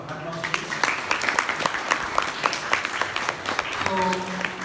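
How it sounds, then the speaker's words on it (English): An audience at a Values Olympiad event applauds the chief guest with scattered, uneven claps, heard under continuous talk from a speaker at a microphone. "So, with a big lot of applause."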